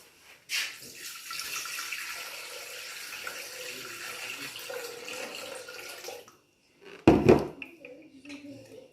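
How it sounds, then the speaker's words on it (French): One litre of water pours steadily into a Thermomix TM6 bowl for several seconds, followed by a short pause and then a loud clunk and splash. "On va rajouter 1 litre d'eau."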